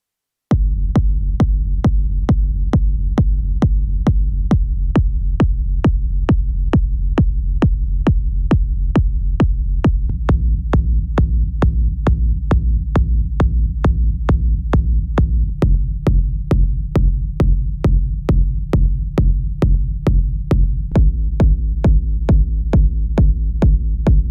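Reverby, rumbling techno bass from an Ableton rack pulses in a steady, loud rhythm of deep booming hits that hold from start to finish without any talk over them.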